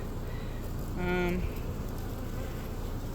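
A single bee buzzes past at close range for about half a second, a droning hum rising over steady outdoor noise.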